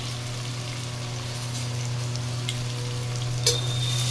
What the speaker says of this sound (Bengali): এই যে চিকেন রান্না চলছে এখন